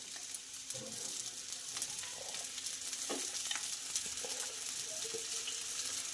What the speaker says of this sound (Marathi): याला छानपैकी असं फ्राय करून घ्यायचं आहे एकदम खरपूस भाजेपर्यंत